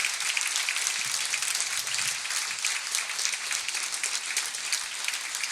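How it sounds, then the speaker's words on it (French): A conference audience claps loudly and steadily for several seconds, a dense, even patter of many hands with no voices rising above it. "On peut applaudir très fort."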